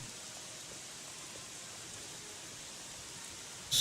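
Steady rain falls in the Gothic 3 game world as a soft, even hiss of drops, continuous and moderately quiet throughout with no voices.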